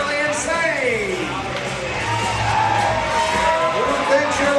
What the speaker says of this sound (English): right now I want to know who won that by your crowd applause